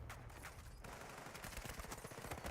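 Gunfire in the Battlefield 6 video game, with rapid bursts of shots blending into a dense, faint fusillade in the background and no voices.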